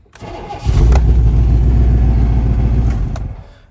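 An old pickup truck engine, somewhat loud, cranks and catches, roaring up loudly to a rough, rumbling run before settling and cutting off after a few seconds.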